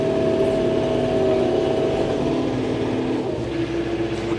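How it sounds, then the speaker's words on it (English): A 2023 John Deere 4066R compact cab tractor with a 65 hp turbo diesel runs throttled up, a steady loud mid-pitched engine drone with a constant tonal hum close by, no talk. "I can throttle the tractor up to what I want"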